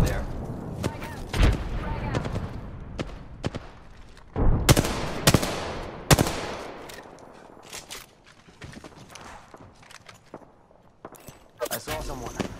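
Gunfire in the battle royale game Apex Legends, with sharp shots and rapid bursts scattered irregularly, some loud and near, others softer. Voices talk over the action.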